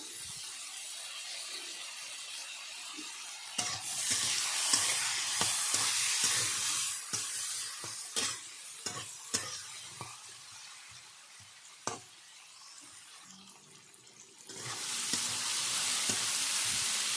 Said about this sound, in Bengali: আলুগুলো আমি কিছুক্ষণ ভেজে নিয়েছি